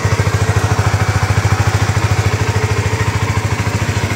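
Honda CBR or Yamaha R15 sport motorcycle engine running just after starting, a loud close, steady rhythmic thumping idle with no talk.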